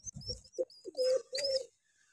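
Pigeons coo in a series of soft, low throaty calls, with a few higher chirps mixed in, heard fairly close and alone before fading to quiet.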